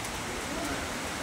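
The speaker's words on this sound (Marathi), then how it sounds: "बघा पुण्याला पाऊस पडायला आहे" Heavy rain pouring down in Pune, a steady, dense hiss of falling water that fills the whole clip evenly, with no pauses or distinct drops standing out.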